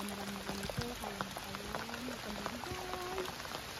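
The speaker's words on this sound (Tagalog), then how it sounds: "Kung hindi umuulan, madali lang sana to eh." Rain pattering steadily on a trail up Aritao Quad Peak in Nueva Vizcaya, a dense even hiss with scattered louder drops and faint tonal sounds over it, no talk.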